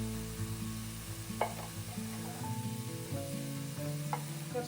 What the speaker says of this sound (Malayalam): ഇതെല്ലാം ചേർത്ത് നന്നായിട്ടൊന്ന് മിക്സ് ചെയ്യാം.